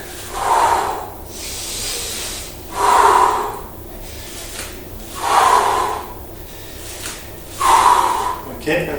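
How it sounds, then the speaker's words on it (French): A person breathes in and out audibly through a bodyweight leg workout, with four slow, loud exhales spaced about two seconds apart and quieter inhales between them. "J'inspire, expire, ok, j'inspire."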